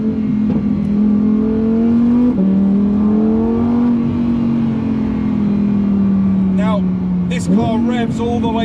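A Lamborghini Aventador S or Huracan Evo engine revs hard and climbs steadily toward its 8,500 RPM limit through a gear, loud and close, with a brief dip at a shift and a sharp rise near the end.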